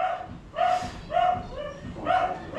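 A dog barks repeatedly, about four loud, close yips and barks spread across a couple of seconds, with quiet background between them.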